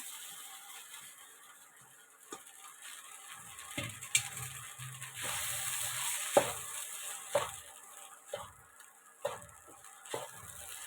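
Idli upma stirred and fried in a pan: steady sizzling with repeated scraping strokes of a spatula against the pan, growing louder midway, with no talking.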